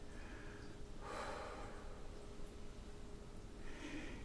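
One person takes a deep breath and lets it out slowly during a calm hypnosis session, with soft airy bursts around one second and near the end over quiet room tone.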